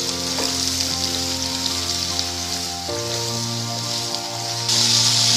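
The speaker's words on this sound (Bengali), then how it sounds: "আমি এবার ঝিঙে আলুটা একসঙ্গে দিয়ে দেব। এটা খুব ভালো করে আমি ফ্রাই করব।" Ridge gourd and potato pieces fry together in hot oil, a steady close sizzle like rain over a faint background hum, swelling louder toward the end.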